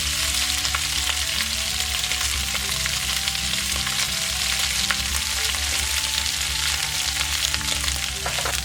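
Rice fries in a hot pan as it forms a crispy crust on the bottom, giving a dense, steady sizzle that stays loud and even throughout with no voices.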